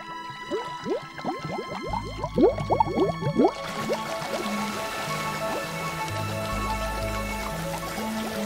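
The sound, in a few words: water flowing from a spring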